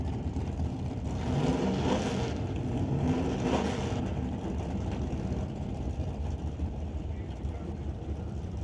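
A 1932 Bantam drag car at an NHRA Northwest National Open Series event backing up after its burnout, a steady loud engine drone with rough low rumble, an announcer talking over it.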